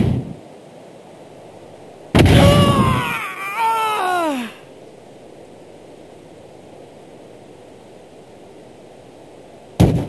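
The Uzumaki Barrage attack lands in the Naruto Clash of Ninja II fighting game, in a Naruto vs Sasuke stage. A roughly two-second burst of crashing impact noise and swooping synthetic tones gives way to quiet, and a short hit returns at the end.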